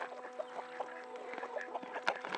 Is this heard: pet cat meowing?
no